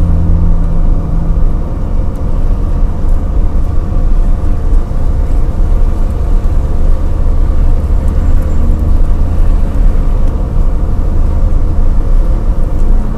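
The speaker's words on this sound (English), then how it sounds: "I love driving my car." A car drives along a road through Samut Prakan, Thailand, heard from inside as a loud, constant low engine and road rumble with no talking.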